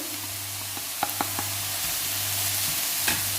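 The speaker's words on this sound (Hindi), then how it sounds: "और इसको अच्छे से चलाएंगे।" Chopped cabbage being stirred in a pan for veg momo filling: a steady hiss with a few soft scraping clicks and a low hum underneath, close and fairly quiet, with no talking.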